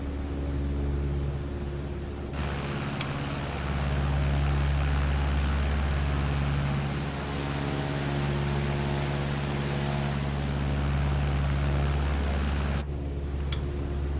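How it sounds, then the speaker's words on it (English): Piper J3 Cub light aircraft with a fabric-covered body and a 65 horsepower engine, in flight along the Delaware Bay coastline, its engine and propeller giving a steady low drone with wind noise from inside the cabin throughout. "This Model J3 has a 65 horsepower engine, not very big."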